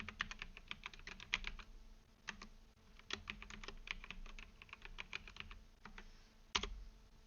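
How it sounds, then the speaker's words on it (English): Someone types domain admin credentials on a computer keyboard in quiet, close clusters of fast key clicks, broken by brief pauses. One heavier keystroke lands near the end, and no one speaks. "Type your admin credentials for the domain controller."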